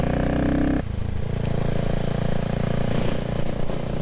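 A Triumph Street RS motorcycle engine runs close by, a loud, steady idle with a lumpy pulsing rhythm, briefly higher-pitched at the start before settling into an even throb.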